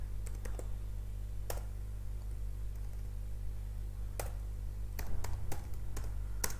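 Keys on a computer keyboard being typed while entering a Python command, heard as a few sparse, sharp clicks and a quick burst of taps over a steady low hum.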